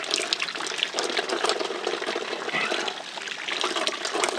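Hot borewell water gushes steadily from a tap while the pump motor runs, a continuous close, splashy rush with no pauses.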